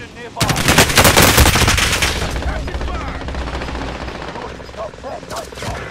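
Loud, rapid automatic gunfire bursts from the Warzone video game, opening abruptly and then continuing as sustained, dense firing in the foreground.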